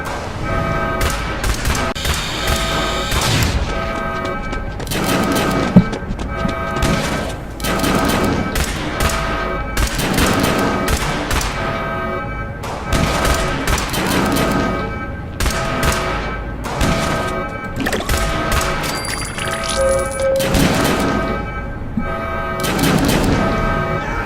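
Rapid gunfire from weapons in the Fallout Shelter video game, loud and dense bursts of shots and thuds over a steady bed of game music, with no talking.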